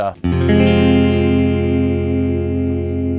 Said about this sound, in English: you're just going to hear the guitar straight into the amp